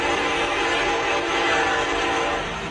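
A distant train, called the ghost train of Santa Rosa, rumbles with a sustained horn-like drone that swells slightly and fades, steady and continuous with no voices.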